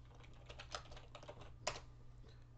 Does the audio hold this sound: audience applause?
no